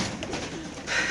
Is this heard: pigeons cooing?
yes